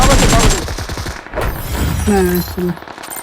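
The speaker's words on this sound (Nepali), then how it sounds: "एक गोली लागेन सागर भाइ" A rapid burst of video game gunfire crackles loudly up front, followed by scattered shots and brief electronic tones, with no speech.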